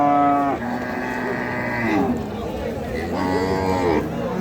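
Cattle moo loudly and close by at a cattle market, two long drawn-out lowing calls, with faint background noise of a crowd.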